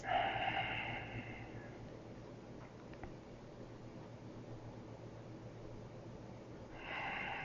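Slow, deep breaths during a yoga session, a soft airy inhale at the start and another swell near the end, faint and close over a quiet hum of background noise, with no speech.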